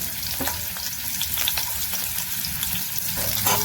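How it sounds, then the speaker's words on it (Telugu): Small chopped onions and ginger pieces frying in oil, a constant crackling sizzle with intermittent stirring scrapes, close and steady with nobody speaking. "ఇది బాగా ఫ్రై చేయాలి, బాగా ఫ్రై చేయాలండి"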